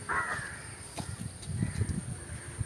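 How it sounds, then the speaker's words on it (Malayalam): Crows cawing at evening as birds return to roost on a windy evening: a sharp caw stands out near the start, with fainter calls and light rustling after it. "കിളികളൊക്കെ അതിൻ്റെ കൂട്ടിലേക്ക് ചേക്കേറാൻ സമയമായിട്ടുണ്ട്. അതുകൊണ്ടൊക്കെയാണ് ഭയങ്കര നോയ്സ്."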